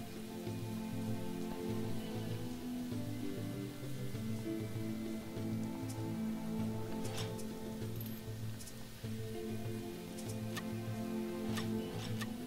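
Steady rain in the survival game Sheltered, a constant dense patter of drops over a looping ambient hum, with a few brighter ticks on top, continuous and alone with no talk.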